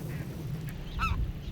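A goose honks a couple of times over a steady low rumble, fairly close, with faint bird calls in the background, in spring on Svalbard.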